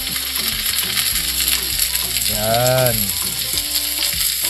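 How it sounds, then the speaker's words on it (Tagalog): Onion sautéing in a pan for ginisang monggo with tofu and okra: a steady close sizzle under a woman's speech, with some light clinks from a utensil. "Ngayon mag-start na tayong maggisa. Ayan, gisa na natin yung ating sibuyas."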